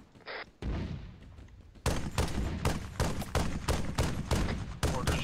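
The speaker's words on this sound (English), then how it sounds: "Firing is from the southwest." Gunfire in a military video game from the southwest, a rapid string of loud, close shots cracking out in a regular rhythm after a few quieter thuds, with no voices over it.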